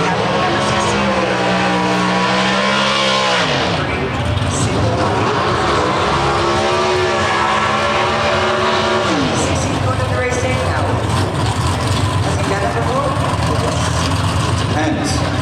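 Pro Stock drag cars at Brainerd blast down the track in a dense, loud roar, pitch sweeping upward then cutting off twice, with crowd noise and wind underneath.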